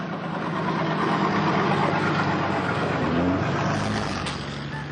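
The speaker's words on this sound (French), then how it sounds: "c'est vrai, pour les gens de voir passer des camions et de voir qu'on s'arrête pas" Trucks of a food aid convoy in Somalia rumble past with a steady, loud, close engine drone that holds for several seconds, with a faint rising whine near the end and no voices.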